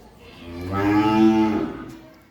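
A Friesian heifer calf gives a single drawn-out moo lasting about two seconds, rising and fading, close by and alone.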